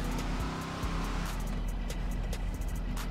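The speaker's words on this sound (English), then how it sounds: "But I love how this car sounds, man. It sounds really good." Engine of a 1986 Chevrolet Caprice Brougham in GTA 5, a steady low rumble running continuously and fairly loud with no talk.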